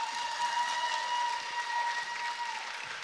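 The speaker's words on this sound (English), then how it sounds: "Big round of applause," An audience at a beauty pageant claps for a contestant, a steady wash of applause at moderate distance under a sustained tonal hum, without any voices.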